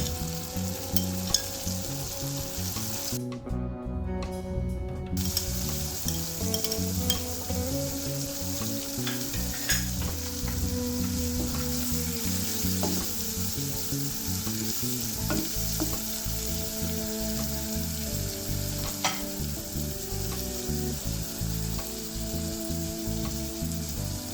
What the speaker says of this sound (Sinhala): රත් වූ තෙලට කරපිංච, රම්පා, කුරුඳුපොතු, තලාගත් ඉඟුරු සුදුරුණු එකතු කරලා ටිකක් බැදෙන්න දෙන්න.